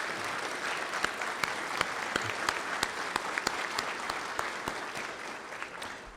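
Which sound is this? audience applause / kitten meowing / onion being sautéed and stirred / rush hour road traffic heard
audience applause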